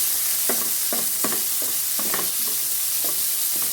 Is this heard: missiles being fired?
no